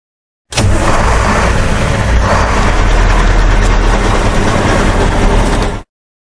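Dump truck engine idling in a children's construction video game, a steady dense rumble that holds at an even loud level for about five seconds and then cuts off abruptly, with no voices.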